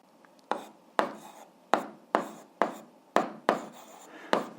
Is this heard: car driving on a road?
no